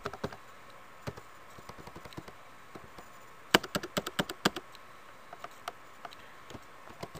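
Close computer keyboard typing in irregular bursts of light clicks and taps, with a dense flurry in the middle, over a quiet background.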